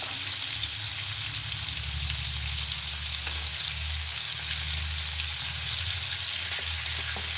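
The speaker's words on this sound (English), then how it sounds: "I'm only going to sear it because you don't want it cooked all the way through." Chunks of pot roast beef sear in a hot pan, giving a dense, even crackling sizzle like light rain that holds steady and close for the whole stretch with no talking.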